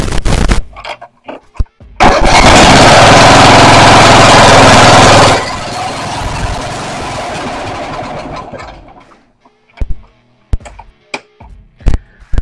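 A Toro Timecutter riding mower engine, just repaired, roars loudly at high throttle for about three seconds, then drops and fades out, followed by scattered sharp clicks and knocks.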